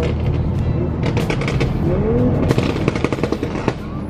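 A revving Toyota Supra engine with a rapid burst of sharp exhaust pops and crackles near the end, loud and close, like a string of gunshots.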